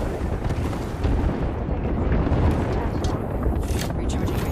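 An airstrike pounding the ground during an Apex Legends match, a dense continuous rumble of explosions that holds steady throughout, loud and close, with a voice briefly heard over it.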